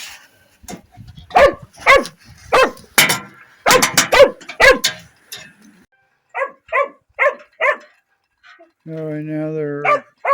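A loud puppy barking in bursts while playing on a farm, a quick series of sharp barks and yips followed by a whine or howl-like call near the end.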